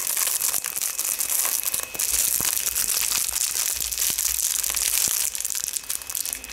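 Continuous crinkling and crackling of plastic packaging being handled and pulled at, close up and fairly loud for several seconds.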